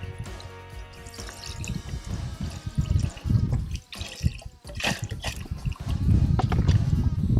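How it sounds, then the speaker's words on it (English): Broth is poured into a pot of Thai walleye soup, making continuous splashing and gurgling liquid sounds close by that swell louder toward the end. "we're going to be adding the broth"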